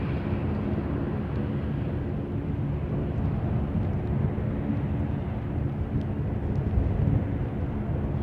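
United Airlines flight UA130 airliner on an emergency divert passes low over the end of a runway beside a bay, a loud, steady broadband engine roar sustained throughout, with no talk.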